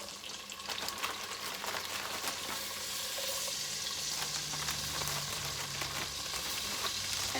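Freshwater shrimp sizzle and fry steadily in melted butter for a keto jambalaya, a loud continuous crackle with some stirring, without any voices.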